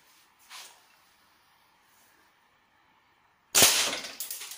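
A toy gun fires at a small target figure indoors, giving a sharp loud crack near the end followed by a few quick smaller pops, after a faint earlier snap and long quiet.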